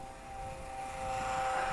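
A small Eachine Mini P47 Razorback 500mm gyro-stabilised RC plane flies overhead, its electric motor giving a steady, fairly faint whine that swells slightly as it draws closer.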